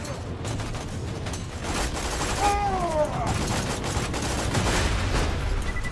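Rapid gunfire in Borderlands 2 crackles in dense bursts over a continuous battle din, with a short whistling, meow-like effect in the middle.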